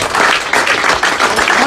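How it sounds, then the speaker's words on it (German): A crowd applauds first-time participants at a BBQ competition, steady dense clapping filling the short stretch without pause. "Applaus noch beim allerersten Mal."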